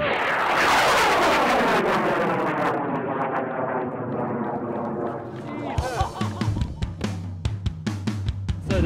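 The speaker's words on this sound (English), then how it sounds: "The rocket has gone up and it's come down somewhere" A loud, close roar from an amateur rocket launch carrying a Google Nexus One phone, a sustained rushing blast that slowly fades as it climbs away, followed by sharp clicks and thumps nearby.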